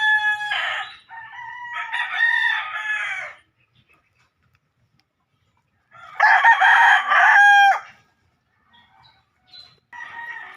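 A rooster crows loudly nearby twice, long strained calls separated by a quiet pause, with a fainter cluck at the end.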